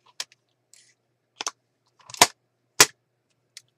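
Scissors cutting through painted paper for a handmade journal, a handful of sharp separate snips and clicks with gaps between them, close and alone.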